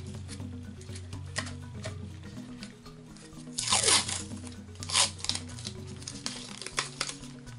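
Tape is pulled and torn off its roll during resin crafting: a loud, crackling rip near the middle, with a shorter tearing burst after it and small rustles around them, close and without talking.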